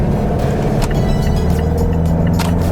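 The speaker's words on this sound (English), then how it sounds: "you could still hear the engine, the diesel engine" Steady low diesel engine rumble from inside a moving Mazda 6 diesel sedan on the highway, continuous and fairly loud with road noise, no talking.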